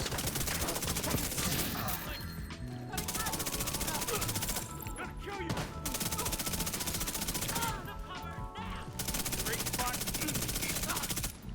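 Rapid SMG gunfire from The Division 2, in a solo Heroic-difficulty fight against NPCs with a no-reload build: dense, loud sustained bursts with brief gaps, crashes and impacts layered throughout.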